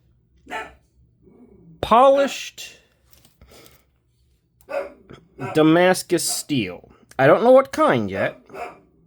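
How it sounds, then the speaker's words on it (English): A dog barks a few times nearby, with sharp, loud yelps mixed in with someone talking over and between them. "That's a dog."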